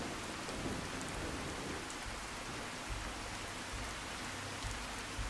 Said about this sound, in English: Well, not while it's raining